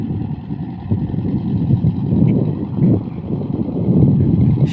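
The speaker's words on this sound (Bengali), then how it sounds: "নদীতে ট্রলার চলতেছে।" A motor trawler runs on a river, heard as a low, rumbling engine drone from some distance that swells and fades slightly, mixed with buffeting wind noise on the microphone.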